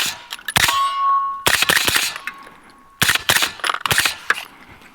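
Pistol caliber carbine shots fired outdoors, loud and close, in quick irregular strings with sharp metallic ringing decay between them.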